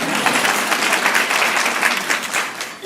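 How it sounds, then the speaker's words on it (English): An audience applauds at a Women in Philanthropy event: dense, continuous clapping that stays steady and fairly loud for the whole stretch, with no break. "Round of applause."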